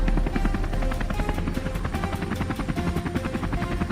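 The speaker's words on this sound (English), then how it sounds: "We boarded the compact helicopter and headed out toward the mist-covered fields." A compact helicopter in flight, carrying a wild boar hunting team toward mist-covered farm fields. Its rotor thumps loudly and steadily over a constant engine roar, close and with no voices.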